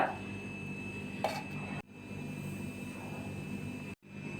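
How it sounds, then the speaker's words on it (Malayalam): A mixer grinder whirs as it grinds semolina in its jar, a loud, steady roaring drone that cuts out abruptly twice during the run. "ഇതിനെ ഒരു മിക്സിയുടെ ജാറിലേക്ക് മാറ്റി ഒന്ന് പൊടിച്ചെടുക്കാം"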